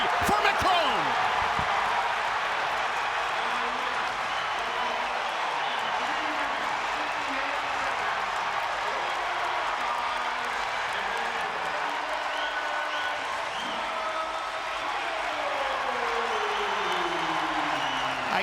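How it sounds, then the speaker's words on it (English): Big Ten college wrestling arena crowd roars continuously, with cheering and applause sustained throughout while a commentator talks over it. "McCrone looking for a fall, and this crowd goes crazy for McCrone."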